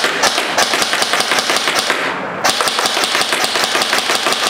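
Toy foam blaster firing on full auto, a rapid steady rattle of close, loud shots running continuously with one brief pause midway before the burst resumes.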